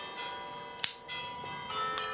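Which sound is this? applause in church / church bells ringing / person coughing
church bells ringing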